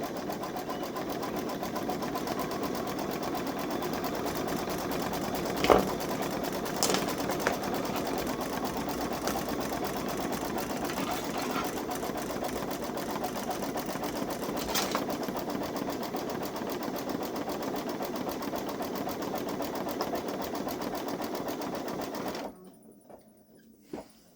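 A Babylock Solaris Vision sewing machine stitches an embroidery design for a skeleton decoration, a steady fast mechanical whirr running on without pause, with a couple of brief clicks, before stopping abruptly near the end.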